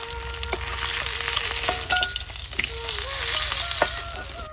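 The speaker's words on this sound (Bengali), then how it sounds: "বাদ বাকি মাছগুলো আর ভাজে নেবো।" Steady frying sizzle of whole live snakehead (lata) fish in hot oil in a wok, with occasional scrapes and clinks of a spatula, continuous and close.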